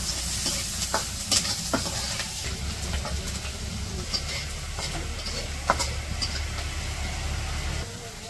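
Onion and garlic frying in a pan for a village-style shak recipe, a steady close sizzle with scraping stirs and occasional clinks throughout, faint voices in the background.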